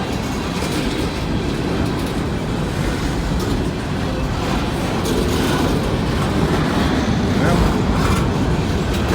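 A train rolling past on the rails, a steady loud rumble with faint clickety-clack from the cars throughout, continuous and close.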